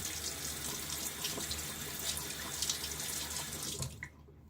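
Water from a running faucet splashes steadily into a sink as a Karve Bradley safety razor is rinsed between shaving passes, then the flow cuts off abruptly near the end.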